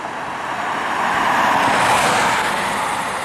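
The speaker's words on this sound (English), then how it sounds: "The Google car just drove by." A Google Street View car passes close by near the entrance to Mount Cheminis, its broadband tire and engine roar swelling to a peak midway and then easing off, with no voices.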